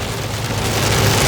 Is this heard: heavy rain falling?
yes